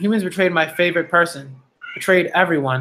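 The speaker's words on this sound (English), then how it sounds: "that's my cat's just being a little ridiculous" A domestic cat meows loudly and insistently close by, a series of drawn-out, whiny calls with a short pause before more, over a live reaction stream.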